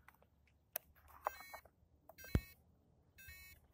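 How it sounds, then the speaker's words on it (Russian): An electronic beeper on a model Cessna 150 airplane sounds several short, bright tonal beeps in separate bursts, with a sharp click between them over a quiet background. "Сейчас пикалку сначала, чтобы знать, когда садить его."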